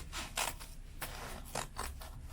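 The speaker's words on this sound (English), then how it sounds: "Sometimes scissors are just better and more efficient." Scissors snip through paper or cardboard while a shop is being prepared: several quick, close, crisp cuts about every half second, fairly quiet and with no talking.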